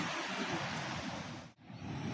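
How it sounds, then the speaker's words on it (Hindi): Water falls and flows slowly from a distant waterfall near a power house, a steady broadband rush with wind buffeting the microphone and a brief dip near the end. "ये देखिए दोस्त, वो वहाँ से पानी गिर रहा है और यहाँ आ रहा है धीरे धीरे बहते हुए।"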